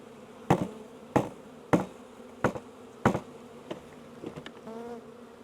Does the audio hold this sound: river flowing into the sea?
no